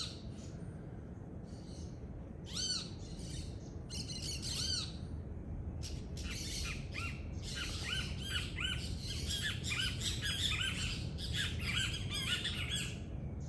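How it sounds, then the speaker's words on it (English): Birds squawking while feeding on cashew fruit in trees outdoors, repeated harsh calls and chirps in irregular bursts over a steady low background hum, moderately near. "we get to see all these birds every morning, beautiful birds"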